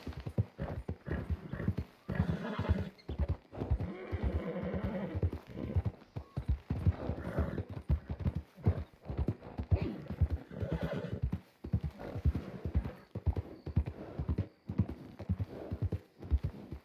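Horse hooves clip-clop steadily in a western roleplay video game, a repeated near, clear rhythmic trot with a neigh or whinny heard along the way, with no talking over it.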